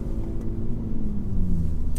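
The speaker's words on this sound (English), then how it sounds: "We are at Thruxton go-kart track." Go-karts running at the Thruxton go-kart track make a steady low engine drone and rumble, with one pitch sliding slowly downward as a kart passes. No voices.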